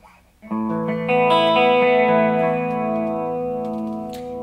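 Sustained electric guitar chord through a Guyatone MCm5 chorus pedal, with a shimmering, slightly detuned chorus wobble, ringing out loud and slowly fading.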